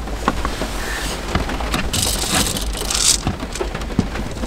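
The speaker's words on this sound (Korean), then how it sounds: "그냥 주차하고 그냥 빗소리 듣고 있는 거라" Rain drums steadily on a parked car, with dense close patter and scattered heavier drops striking the roof and windows, and no voices.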